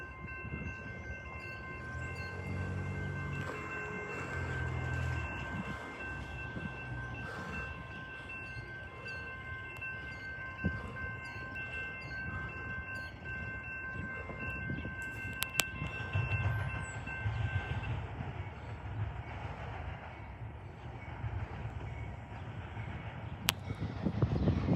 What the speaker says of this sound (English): CSX intermodal rule.